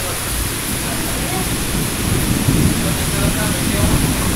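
Dense, steady downpour of a thunderstorm in Van Cortlandt, the Bronx, New York City, with a deep thunder rumble building in the second half, loud and enveloping.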